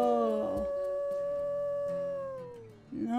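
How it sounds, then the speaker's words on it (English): A wolf howl from the video game WolfQuest 3, one long tonal rising-then-falling wail lasting about three seconds, clear and alone. "Howl."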